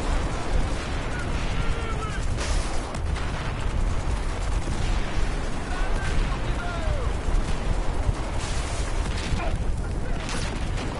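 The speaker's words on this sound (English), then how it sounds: "They threw a flashbang." Gunfire and a flashbang explosion from a video game firefight, with dense, continuous bursts and booms throughout and people talking over the action.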